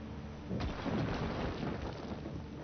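A lightning strike cracks and thunder rolls in The Gardens Between video game, a sudden burst that swells into a sustained rumble over soft rain, fairly quiet and with no one speaking.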